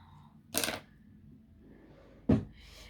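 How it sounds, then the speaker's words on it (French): Scissors being put away, two sharp separate clacks of metal against a surface about two seconds apart, close and otherwise quiet. "Je range les ciseaux."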